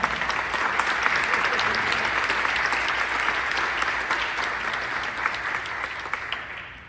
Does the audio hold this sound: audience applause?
yes